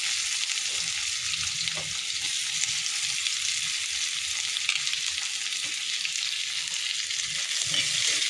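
Onions frying in hot oil with cinnamon and cumin, a dense, steady sizzle and crackle throughout, with a few soft stirring knocks underneath and no talking.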